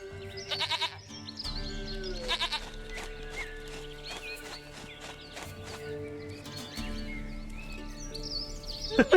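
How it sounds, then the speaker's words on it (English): A goat in the game The Witcher 3 lets out several short, loud bleats in scattered bursts, heard over sustained background music. "Goat of mine, dearest, sweetest goat."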